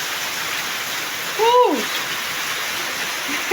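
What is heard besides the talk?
rain falling in a village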